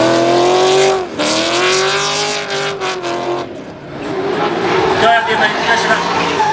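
Loud, close engine roar of the V8-powered Achilles FC RX-7 drift car, troubled by third-gear issues, at a D1NZ drifting round in Tauranga. The pitch sweeps up and down with revving, dips briefly, then climbs again into a rough, gritty howl.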